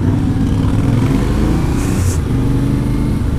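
Yamaha Ténéré 700 motorcycle engine running steadily at close range, a continuous low, open-sounding idle drone with even loudness throughout.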